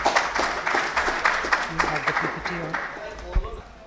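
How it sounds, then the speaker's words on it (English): Scattered clapping from an audience, moderately loud and irregular, with a few sharper claps standing out as it thins toward the end. "can we have a huge round of applause for ma'am?"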